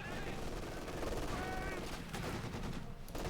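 Rapid small-arms and machine-gun fire rattles through a Company of Heroes 2 match between German and Soviet forces, a dense continuous volley heard under a commentator's voice.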